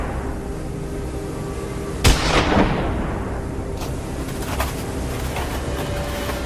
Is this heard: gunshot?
yes